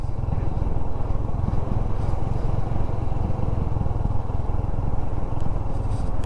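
A motorcycle rides in low gear down a sandy road in Ladakh, its engine a steady, close, continuous low rumble with no talk over it.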